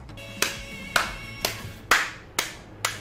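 Six single hand claps ring out at a slow, even pace, each a sharp close crack with a brief decay, with no talking, during a Fall Guys game stream.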